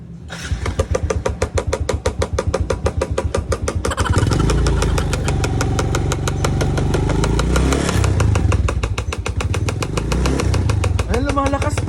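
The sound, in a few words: motorcycle engine running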